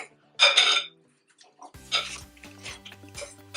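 Utensil mixing spaghetti with eggs in a bowl for a Cameroonian spaghetti omelette: a loud scraping clatter, a pause, then a series of clinks and scrapes against the dish, close by.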